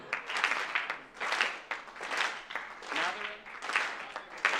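An audience at a chorus festival claps in several swelling rounds of applause.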